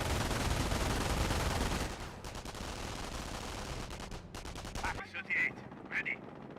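Gunfire rattles in the World War II strategy video game Company of Heroes, with a jeep firing away. A loud, dense burst of shots gives way to sparser rapid volleys and scattered cracks of bullets striking.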